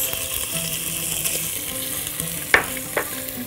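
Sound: garlic and celery frying in a pot

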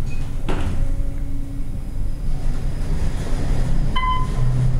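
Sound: Otis traction elevator door closing

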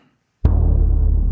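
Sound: timpani hit

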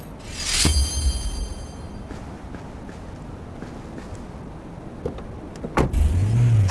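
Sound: car driving in video game City of Outlaws

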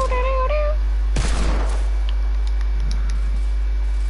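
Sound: Desert Eagle pistol gunshots in a video game

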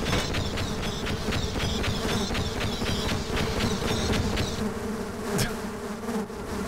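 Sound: bees buzzing in video game Half-Life Sven Co-op

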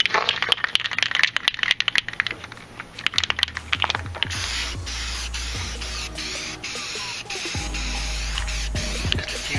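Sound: spray painting a trailer with Rust-Oleum paint

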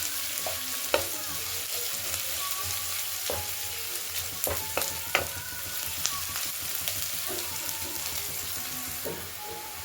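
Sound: chopped garlic frying with onions

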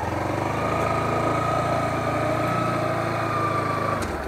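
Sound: Bajaj Pulsar NS 160 motorcycle engine during turning test

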